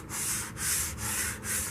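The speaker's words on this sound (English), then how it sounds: "this sandpaper very gently along the edges on all sides. It's a very fine sandpaper." Very fine sandpaper rubbed gently along the edges of a carved wooden sword, making four steady, close rasping strokes in an even back-and-forth rhythm.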